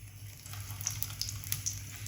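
Chicken cooking in a pan over a low flame, a faint, quiet sizzle with a few soft pops and crackles over a steady low hum.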